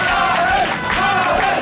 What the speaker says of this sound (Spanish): Un aplauso para Mabel, por favor.